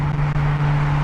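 A BMW M6 engine droning steadily from inside the car while driving, a sustained low hum with a constant tone and no speech over it.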